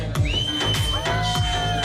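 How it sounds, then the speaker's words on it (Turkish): A crowd at a Turkmen wedding celebration in Istanbul gives out a long, shrill whistle over loud cheering and whooping, the din of the guests carrying on throughout. "Alkış, svistok."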